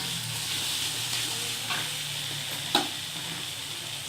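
Pre-fried petai beans stir-fried in a pan for mienas give a continuous hissing sizzle, punctuated by a few utensil scrapes and one sharp clack near the end.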